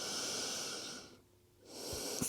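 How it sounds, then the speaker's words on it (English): Slow, deep breathing during a yoga stretch: a long, steady airy exhale, a brief quiet pause, then another full breath drawn in, close and clear with no talking. "And just nice deep breaths."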